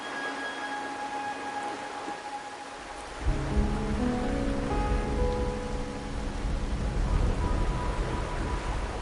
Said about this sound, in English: My granddaughter told me Raguna's rain is a bad omen.